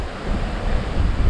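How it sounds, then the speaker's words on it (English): Strong wind buffets a microphone outdoors during brush clearing, a steady loud low rumble with gusty swells and no other sound. "Wow, it's windy."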